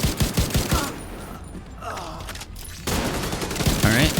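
A turret in the video game The Division 2 fires bursts of rapid, close gunfire, which pause briefly and then resume, with a player's voice at times over the shots.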